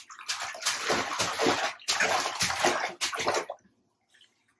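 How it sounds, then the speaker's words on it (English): An 11-month-old baby splashes water in a bathtub, several loud close slaps and sloshes in quick succession, then a sudden stop into near silence. "He's splashing."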